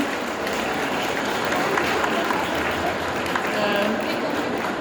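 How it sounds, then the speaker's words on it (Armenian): An audience at a book launch applauds in a steady, even wash of clapping that stays moderately loud throughout, with faint murmuring voices in the room underneath. "խնդրեմ ձեր ծափահարությունները"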